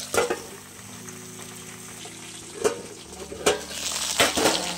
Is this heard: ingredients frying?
yes